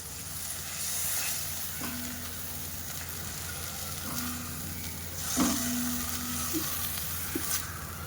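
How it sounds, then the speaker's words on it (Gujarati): Garlic, chili and spices sizzling in a pan for guvar sabji, a steady close frying hiss with occasional soft stirring clinks, no voices. "તો સરસ આપણા મસાલા શેકાઈ ગયા છે."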